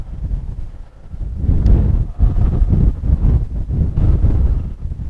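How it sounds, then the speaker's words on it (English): Outdoor wind buffets a camera microphone in strong, irregular gusts, producing loud low rumbling thumps that rise and fall continuously. "Wind's shaking the camera like crazy."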